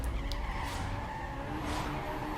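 Volkswagen GTI launching in Need for Speed Most Wanted video game, tires skidding and squealing in a continuous loud screech over the engine, heard close with no talk.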